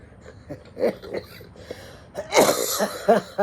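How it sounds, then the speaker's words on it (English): A few rough coughs and throat-clearing sounds come close up, one short one early, then a louder cluster of two or three near the end. "Makes me cough."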